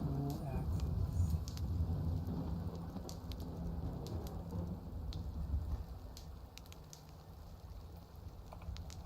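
Rain falls in Skyrim, a dense steady patter with low rumbling like distant thunder, moderately quiet throughout.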